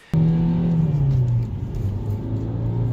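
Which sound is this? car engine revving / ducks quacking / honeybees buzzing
car engine revving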